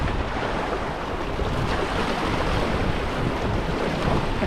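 Splashing water from the down current below river rapids, heard from a canoe heading onto a backcountry lake, a continuous loud broadband rush with wind buffeting the microphone and no talk.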